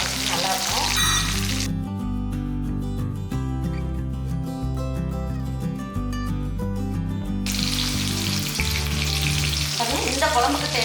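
Garlic and shallots fry in oil for a South Indian kuzhambu, a bright crackling sizzle heard clearly at the start and end while loud rhythmic background music covers it in the middle.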